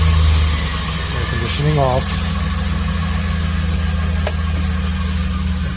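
A Chevy Express van engine with a cylinder misfire turns over and settles into a steady, low idle that runs throughout, with a brief spoken phrase early on.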